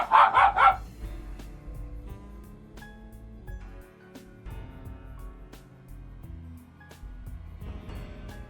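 Dogs bark in the Fallout: New Vegas video game, a loud flurry of several barks at the start followed by quieter game ambience and music.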